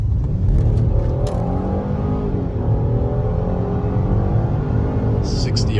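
A Ford Explorer EcoBoost pulls hard while driving on a road, its engine rumbling loud and close from inside the cabin, with a steady low drone that climbs smoothly as it accelerates.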